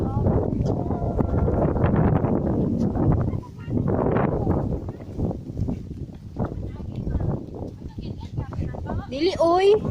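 Strong wind on a hill before a storm buffets the microphone in loud, gusting rumbles that rise and fall, with people talking over it.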